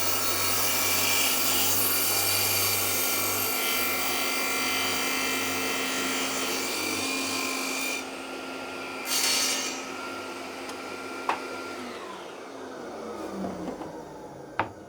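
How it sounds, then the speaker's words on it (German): A saw blade cuts through a wooden board set against a stop for repeatable lengths, a loud steady whirring rasp that runs for about eight seconds, then winds down with a few clatters and knocks. "dass ich da mit dem Sägeblatt bin und hier einen wiederholgenauen Schnitt machen kann"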